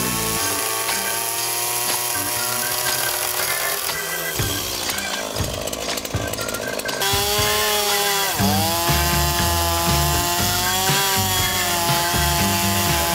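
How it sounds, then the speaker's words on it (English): A chainsaw cuts into a thick plank on a rescued wooden boat's steering system, running loud and continuous throughout, its pitch dropping and rising as the blade bites into the wood and eases off. "So that's what's going to be cut with a chainsaw."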